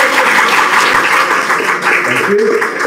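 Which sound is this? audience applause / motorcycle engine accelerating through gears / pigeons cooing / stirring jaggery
audience applause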